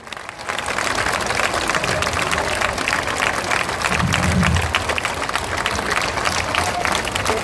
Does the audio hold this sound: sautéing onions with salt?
no